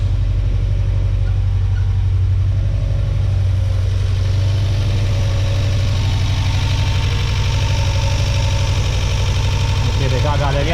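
Car engine idling steadily just after a first-key start, with exhaust manifold warming, a strong low rumble running continuously and close throughout, with faint talk underneath.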